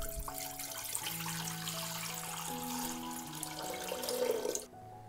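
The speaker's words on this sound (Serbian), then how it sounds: "Moj ekspres lonac je zapremine 6 litara i sipaću litar vode." A litre of water pours into a 6-litre pressure cooker, a steady splashing stream with rising ringing tones as the pot fills, ending abruptly after about four and a half seconds.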